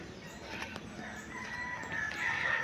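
Chickens cluck and a rooster crows at a distance over a soft outdoor background. The calls are faint and scattered and grow a little stronger toward the end.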